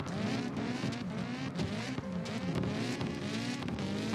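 A drifting car's engine in CarX Drift Racing 2, revving loud and steady with constant throttle changes and tyre noise while it holds a slide through corners, without pause.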